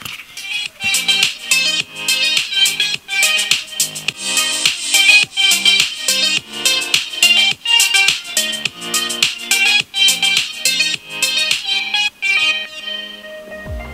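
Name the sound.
song played through Parani M10 Bluetooth intercom by Sena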